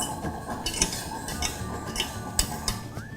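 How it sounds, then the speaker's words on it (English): A metal whisk clinks against a pot as coconut milk is whisked into roasted gram flour for khao suey. The scraping and tapping is steady and close, with sharper clinks now and then. "I like to use a whisk just to whisk it in so there are no lumps."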